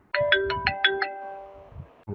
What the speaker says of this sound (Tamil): ஒன் செகண்ட் அர்ஜுன், ஃபோன் வந்து யாரும் பார்த்துட்டு வரேன